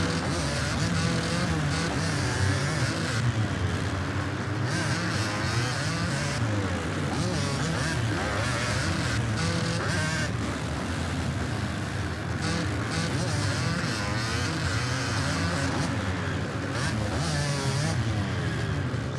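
A 125cc motocross bike screams through a race, its two-stroke engine revving steadily up and down, loud and close for the whole stretch.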